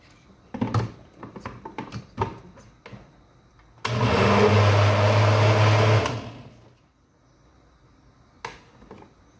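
A kitchen blender whirs loudly for about two seconds as it blends kale and lemon into juice, then spins down. Light taps and knocks of handling come before and after the burst.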